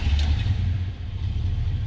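A 1972 Buick Estate Wagon with a 455 V8 engine, a close, loud low rumble that stays steady as the engine turns over and runs, with no talk.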